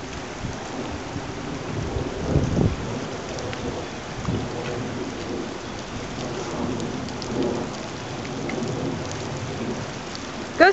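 Steady rainfall with rumbling thunder during a storm outdoors by a driveway, a continuous hiss of drops on surfaces with low rolls of thunder swelling and fading throughout.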